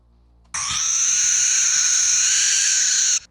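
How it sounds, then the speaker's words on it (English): A single continuous, harsh owl screech, loud and close, held steadily for nearly three seconds before cutting off. "or owls screeching"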